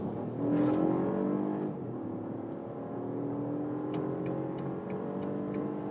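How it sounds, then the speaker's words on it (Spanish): A BMW xDrive 30e plug-in hybrid SUV accelerates at full throttle from 50 km/h with the gearbox in S mode, giving a steady, rising engine and drivetrain drone heard from inside the cabin, with faint ticking clicks near the end. "Aceleramos a fondo desde 50 km por hora."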